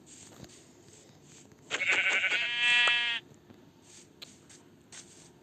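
A single loud, wavering sheep bleat from a video game, about a second and a half long, standing out from quiet ambient noise with faint clicks around it.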